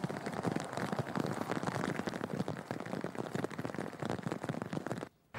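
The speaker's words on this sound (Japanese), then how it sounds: "各地で記録的な大雨となっています" Heavy, record-breaking rain pours steadily during a typhoon in Shizuoka, a dense continuous hiss of drops hitting surfaces, loud and unbroken until a brief dropout near the end.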